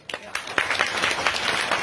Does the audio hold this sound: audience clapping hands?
yes